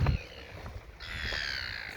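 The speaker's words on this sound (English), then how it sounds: "Birds making noise over there." Crows cawing a few times in the distance near a boat launch at low tide in the Bay of Islands, faint harsh calls over steady outdoor background noise.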